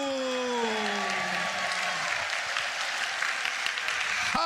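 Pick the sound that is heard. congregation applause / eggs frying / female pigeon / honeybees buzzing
congregation applause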